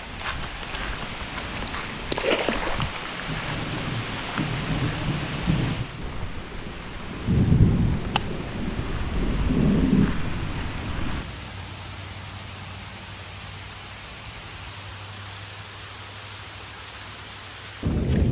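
Steady rain hisses throughout under a bridge by a creek, mixed with low rumbles of thunder in the first half before settling into a softer, even patter.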